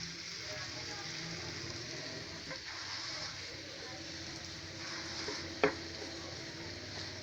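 Potatoes and spices are stirred into fried onions in a pan, giving a faint, steady sizzle with soft scraping strokes and one sharp clink of the utensil near the end.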